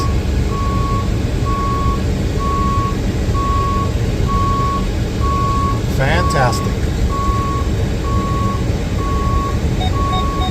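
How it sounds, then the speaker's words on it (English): Steady high-pitched reversing beeps from a 2018 Chevrolet City Express cargo van repeat at an even rhythm over a loud engine idle, with a brief spoken word partway through. "It's got the beeping noise back there, letting people know you're going back there."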